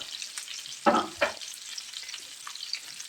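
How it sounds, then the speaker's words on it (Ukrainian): Young potatoes and onion fry in a pan with a soft, steady sizzle, interrupted by two short clattering bumps of a utensil near the middle. "Так, трошки хай підсмажиться з одного боку і перевернемо на інший."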